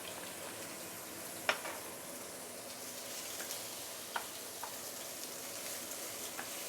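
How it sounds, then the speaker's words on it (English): Minced garlic and ginger sauté in hot oil in a pan for a chicken stew, a steady soft sizzle with a few sharp pops and stirring clicks, close and alone. "put in the garlic and also ginger. We're going to saute this for a minute or two before we continue."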